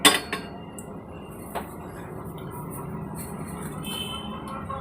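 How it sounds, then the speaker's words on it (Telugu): A tea pot is set down among dishes in a home kitchen, with a few sharp metallic clinks at the start followed by soft rattling and clatter over low background hum, no talking. "ఇప్పుడు టీ గిన్నె పెట్టుకుంటున్నాం."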